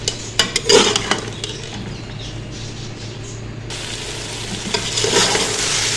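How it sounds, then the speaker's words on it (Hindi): Chana dal and bottle gourd sizzle and fry in a pot while a spoon scrapes and stirs, giving a steady crackling hiss with clinking knocks near the start and a louder burst of frying toward the end. "दाल को अब हम भूनेंगे सिर्फ 2 से 3 मिनट ही।"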